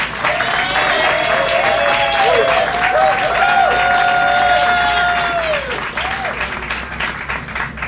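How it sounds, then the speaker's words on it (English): An audience applauds a councilwoman at a civic event in Suitland, Maryland, a loud, sustained clapping crowd with a voice speaking over it that fades toward the end. "I think she deserves a round of applause"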